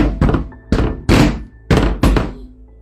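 A man pounds on a locked bedroom door in a series of five heavy, loud thuds at uneven intervals, each blow booming close and resonant, with no talking over them.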